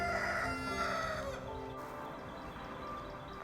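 A rooster from a free-range farm flock crows loudly and close at the start, then trails off into faint clucking and barnyard background.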